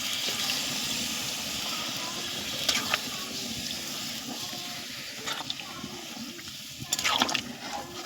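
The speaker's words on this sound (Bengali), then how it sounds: "এবার ঝোলের জন্য একটু গরম জল দিয়ে দিচ্ছি আমরা" Hot water is poured into a pan of cooked-down chicken curry to make gravy, giving a soft, steady pour with brief splashes and sizzling bursts.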